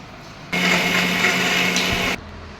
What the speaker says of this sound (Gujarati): મિક્સરમાં દરી કાઢું